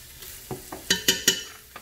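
Jackfruit cooking with sofrito in a pan, stirred so that a spoon knocks and scrapes a few times over a faint sizzle, three louder strokes close together near the middle.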